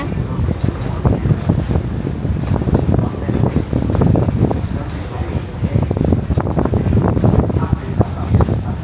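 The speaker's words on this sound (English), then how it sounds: "Bit windy." Steady wind in France roars and buffets the microphone throughout, a dense low rumble with gusty swells, close and loud.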